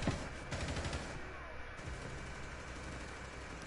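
Video-game gunfire crackles in quick bursts at the start, followed by a low, steady rumbling game backdrop that runs on without clear further shots.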